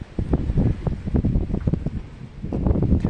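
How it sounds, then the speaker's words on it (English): Steady wind gusting outdoors in a seedling garden after rain, a loud continuous rushing with repeated buffeting gusts against the microphone and no talking. "So, it's windy again."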